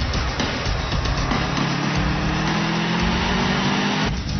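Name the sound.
car with boxer engine driving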